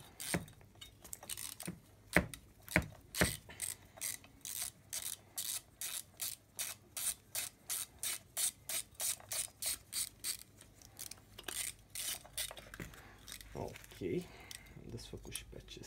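Ratchet wrench clicking steadily while loosening an exhaust bolt on a Husqvarna 136/137/141/142 chainsaw engine, a long run of quick, even clicks in short bursts, close and fairly loud with occasional metallic clinks.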